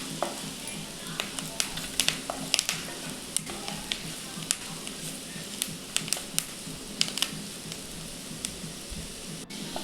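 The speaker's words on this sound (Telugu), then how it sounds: "కరివేపాకు వేసుకొని కలుపుకొని మంచిగా ఫ్రై చేసుకోవాలి" Bitter gourd fry with fresh curry leaves frying and being stirred in a pan, giving a steady close sizzle broken by frequent crisp clicks and scrapes of the stirring spoon, with no talking.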